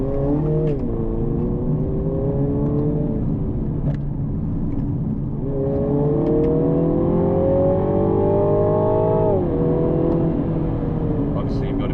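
A four-cylinder two-litre car engine drones and rises in pitch as it revs, easing off and climbing again, with steady road rumble throughout.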